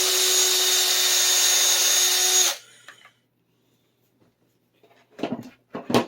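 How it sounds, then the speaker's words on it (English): A power drill whines loudly for about two and a half seconds drilling a hole in a Telecaster guitar body, then stops, followed by quiet and a few soft handling knocks. "So I needed to drill a hole there"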